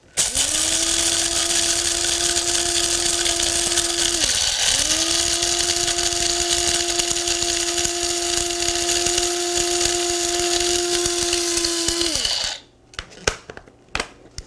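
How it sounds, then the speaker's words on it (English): An electric grinder whirs at a steady high pitch as it grinds fenugreek seeds with rock salt, running in two long bursts with a short dip between, then stops, followed by a few clicks and rattles. "I like to grind the fenugreek seeds with about 3 teaspoons of rock salt."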